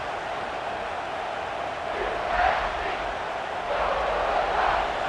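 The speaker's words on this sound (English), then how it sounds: "Listen to the crowd energy here in the early going." A large stadium crowd in a college football video game roars steadily in a big open space, swelling louder in a couple of waves, with no single voice standing out.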